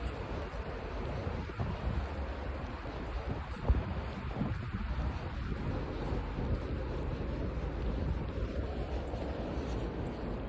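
Cold wind blows outdoors, a steady low rumbling rush buffeting the microphone throughout, with one brief thump partway through and no clear talk.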